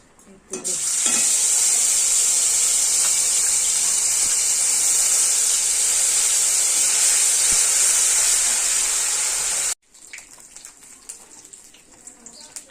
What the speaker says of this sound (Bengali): একটু কালো জিরে ফোড়ন দেবো